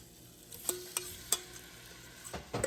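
Shrimp cooking in melted grass-fed butter in a pan, a faint soft sizzle punctuated by a few sharp taps and clinks of utensils against the pan, close and quiet with no voices.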